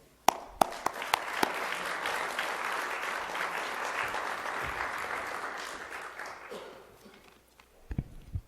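Audience applause welcoming a speaker to the podium at a Secular Franciscan Order award talk, a steady sustained clapping from a sizable crowd that swells, holds for several seconds, then fades out near the end.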